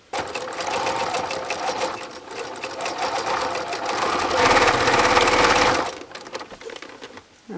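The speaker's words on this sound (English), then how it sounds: "And then I can stitch it right off the end." A sewing machine runs steadily as it stitches a necktie pillow, with a brief louder burst near the end before the motor stops; no voices.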